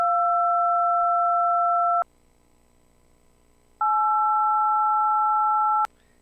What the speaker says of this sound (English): Yeah, it's generating these DTMF tones.